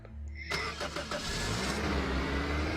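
A truck engine in a video game starts up suddenly and settles into a steady, mid-pitched running drone, loud and close, with no talking over it.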